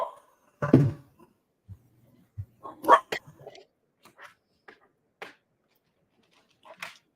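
A pet dog named Reba barks indoors as family members arrive home, giving a few scattered barks and yips with quiet pauses between them, fairly close by.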